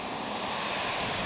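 The PTERA, a heavy, complex, high-speed multi-engine modular test airplane with retractable gear, in flight, its jet engines giving a loud, steady roaring whine that stays constant throughout.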